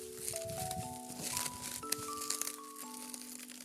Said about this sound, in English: Let me unwrap it.